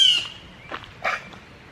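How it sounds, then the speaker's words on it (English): Birds at a campground in Virginia give loud, harsh squawks, a sharp descending call followed by two short rough bursts. "Boy, these birds are really loud."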